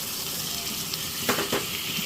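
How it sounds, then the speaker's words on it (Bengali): Spices and a splash of water sizzle in hot mustard oil in a wok while fish-head curry is being made, a steady close crackling hiss with a couple of brief louder bursts of spitting. "তো আমি মশলাগুলি দিয়ে দিয়েছি, একটু পানি দিয়েছি।"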